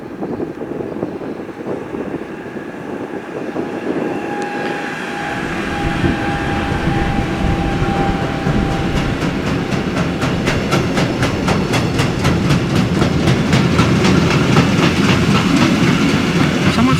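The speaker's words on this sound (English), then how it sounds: "it's a freight train towed by an old German locomotive" A freight train hauled by an old German locomotive passes close by at a railfanning spot in Mecklenburg. The low rumble builds, then gives way to a steady, loud clickety-clack of wagons over the rails, with no voices.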